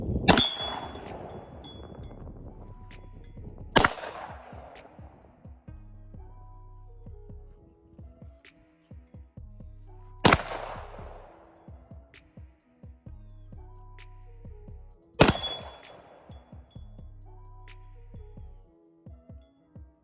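Four sharp, loud pistol shots spaced several seconds apart, from 1911 pistols, a Rock Island 10mm and a Kimber lightweight .45 ACP, each followed by a ringing metallic decay and faint clinks between shots.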